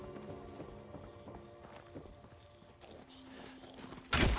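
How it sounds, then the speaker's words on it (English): Footsteps of a character walking in the video game Fallout 76, soft and evenly paced under faint background ambience, ending in a sudden loud noisy burst. "I hear footsteps."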